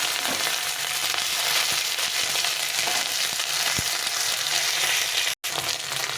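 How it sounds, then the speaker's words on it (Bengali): Fenugreek seeds fry in hot oil as ginger paste goes in, a steady close sizzle with a few sharper crackles and a brief dropout near the end. "মেথিটা একটু ভাজা ভাজা হয়ে গেলে আমি দিয়ে দেবো এখানে আদা বাটা"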